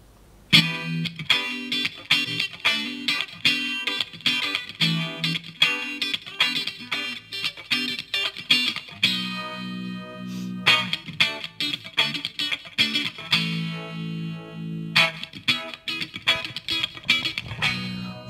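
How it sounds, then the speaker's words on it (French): Distorted electric guitar played through an Orange amp with delay and spring reverb, with chunky rhythmic chords and sustained ringing notes that come in bursts separated by short gaps. "je passe avant par mon Guitar Butler et en insert j'ai delay et une petite reverb, spring reverb pour ça."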